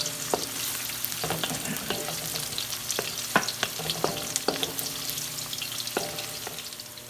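Garlic frying in a pan for Filipino igado, a steady crackling sizzle with repeated sharp scrapes and clicks of a utensil stirring against the pan, close and with no voices.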